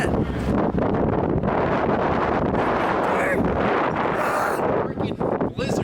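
Gusting blizzard wind roars across the microphone in an open parking lot, a loud, continuous buffeting rush that barely lets up for the whole stretch.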